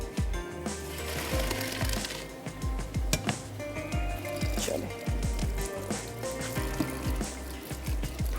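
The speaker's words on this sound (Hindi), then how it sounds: "मैक्रोनी है इसको हम निकाल लेते हैं और इसके ऊपर से ठंडा पानी गुजार लेते हैं।" Cold water splashes over freshly boiled macaroni in a strainer, uneven gushing and dripping with occasional clinks, while someone speaks briefly.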